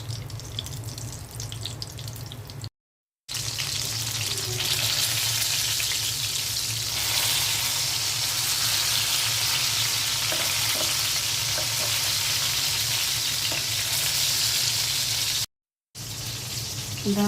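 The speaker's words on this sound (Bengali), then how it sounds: "বেগুন ভাজা হয়ে গেছে," Eggplant slices fry in hot oil in a pan, a loud continuous close sizzle that holds steady for several seconds, broken by two brief silent gaps.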